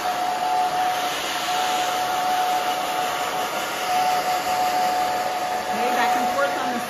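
Blow dryer running steadily on short pixie-cut hair, a loud continuous whooshing airflow with a faint high whine, holding even for about seven seconds with no talking.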